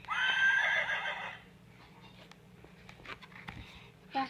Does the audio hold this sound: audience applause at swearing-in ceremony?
no